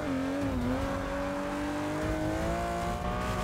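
Car engine in the Forza 6 racing game, a steady loud drone whose pitch climbs gradually as the car accelerates, continuous throughout with no talk.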